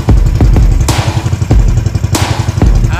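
Borrowed motorcycle engine under test, loud and close, idling with a chugging beat and two sharp bursts of revving, clattering mechanical noise between.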